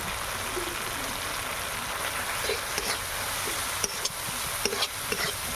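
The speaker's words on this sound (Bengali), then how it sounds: "ভালো করে কষিয়ে নেব" Masala spice paste with salt fries in oil for a snail meat curry, a dense continuous sizzle with scraping stirs and a few sharp clicks of the spoon toward the end.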